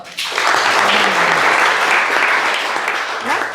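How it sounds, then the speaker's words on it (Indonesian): A class or lecture audience applauds a student group after its presentation, a dense, loud burst of clapping that starts abruptly and holds steady for a few seconds with faint voices underneath. "terima kasih kelompok 1. Tepuk tangan dong"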